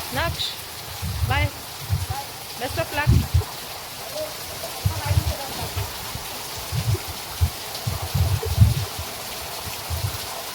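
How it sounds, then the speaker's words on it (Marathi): Heavy morning rain pours steadily, a dense hiss filling the whole stretch, while voices talk over it in bursts. "खूपच पाऊस आहे"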